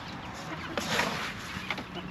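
Backyard pet chickens cluck while being fed corn rice alongside ducks. A few distinct clucks and squawks rise over a continuous murmur of poultry sounds, close by, with no talking.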